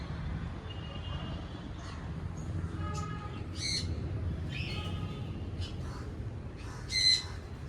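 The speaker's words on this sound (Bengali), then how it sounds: "আকাশটার পায়রা দুটো ওখানে খেলা করছে উপরে" Two pigeons flying overhead on a mild winter day give a few short, squawking calls that come in bursts over a low outdoor rumble.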